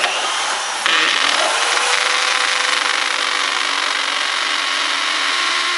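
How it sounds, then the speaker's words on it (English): A power drill bores a 1/4 inch hole, likely into masonry for a Tapcon screw, with a loud, steady high-pitched whine that starts abruptly and holds continuously, close up. "go ahead and drill your next 1/4 inch hole"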